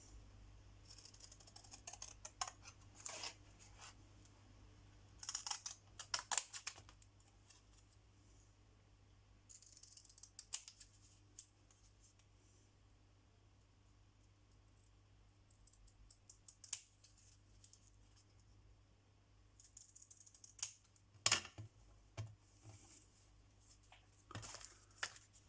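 Scissors cut around a stamped paper image in a quiet room, with scattered soft snips and clicks in irregular clusters over a faint steady hum.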